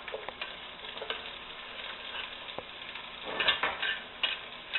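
Onions, garlic and pepper fry in olive oil in a saucepan for stir-fried cabbage greens, a soft, close sizzle with light stirring knocks and clicks that swells toward the end.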